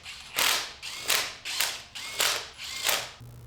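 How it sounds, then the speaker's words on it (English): An impact wrench on auto setting snugs lug nuts on a first-generation Toyota Tundra wheel, firing six short, rattling bursts in an even rhythm, close and loud with brief pauses between, and no talking. "I always start with hand threading the lugs, then use my impact on the auto setting to get them snug."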